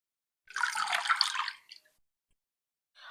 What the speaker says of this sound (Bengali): আলুগুলো জলটা ঝরার জন্য আমরা একটা ঝুড়িতে তুলে নেব।